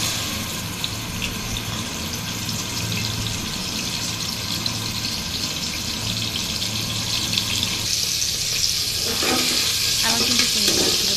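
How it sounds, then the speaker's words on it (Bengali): Shrimp frying in hot oil in a wok, a continuous close sizzle that grows brighter and louder near the end, with a few stirring scrapes and no talk. "এবার চিংড়ি মাছগুলো খুব ভালোভাবে ভেজে নেব"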